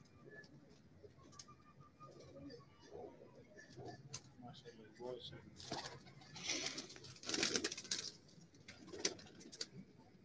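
Pigeons coo softly on a rooftop while people talk nearby.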